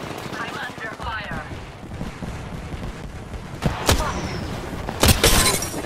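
Gunfire in the battle royale game Apex Legends, a steady rattle of shots under game noise and voices, with two sharp louder bursts standing out near the end.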